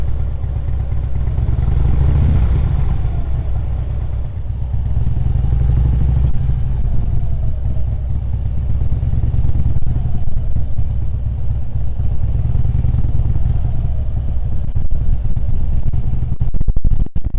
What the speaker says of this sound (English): give the motorcycle just a minimal amount of throttle as I'm slowly releasing the clutch